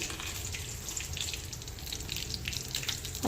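Cumin and curry leaves spluttering in hot oil, a fine continuous crackle and hiss with faint scattered pops, fairly quiet and steady with no voices.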